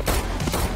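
Gunfire from a John Wick action scene with security guards firing: a dense, rapid fusillade of shots packed into under a second, loud and continuous with no pauses.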